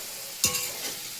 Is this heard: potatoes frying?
yes